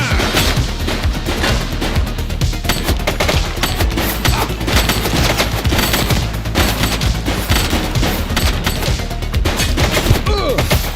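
Sustained automatic gunfire in the police video game The Precinct, dense rapid bursts and shots fired continuously and loudly throughout, with crashes and thuds mixed in and no clear talking.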